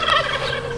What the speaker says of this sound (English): we have the free range chickens